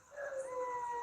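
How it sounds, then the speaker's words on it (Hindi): Dogs and jackals howling at night near a village cremation ground: a sustained, wavering howl that rises and then holds steady, fairly clear and with no talking over it. "कुत्ते, सियार,"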